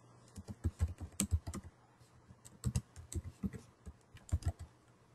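Typing on a computer keyboard while entering a Maven archetype generate command, heard as close, crisp clusters of keystrokes in several bursts with short pauses between, alone without any talk.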